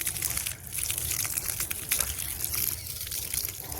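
Water gushes and trickles onto a field being readied for sowing seeds, a continuous splashing and sloshing flow heard up close with shifting intensity and no talk over it.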